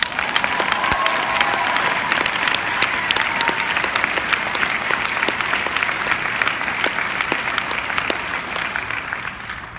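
Audience at a leadership conference talk in Las Vegas clapping hands, dense sustained applause from a large crowd at even loudness, tapering slightly near the end.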